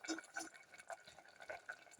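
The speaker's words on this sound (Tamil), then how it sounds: "கொதிக்குது," Drumstick and jackfruit seed masala gravy simmering in a pot gives off soft, faint bubbling pops and liquid blips that recur irregularly, alone and quiet throughout.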